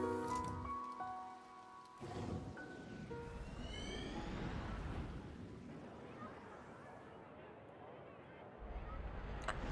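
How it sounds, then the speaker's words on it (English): Rain falls in the video game To the Moon as a soft, continuous hiss of drops. A few brief tones sound at the start, and the patter stays faint and even throughout. "Guess in the rain, come on!"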